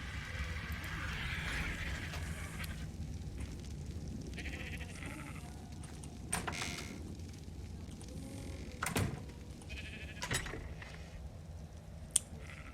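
Sheep bleat in a video game, several soft calls rising and falling among other in-game clatter and faint knocks over a low steady background.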